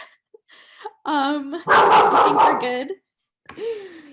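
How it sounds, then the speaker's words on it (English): A pet dog barking indoors, several sharp yaps and a longer harsh bark in quick bursts, close and loud, with people talking at the same time. "sorry, that's my dog."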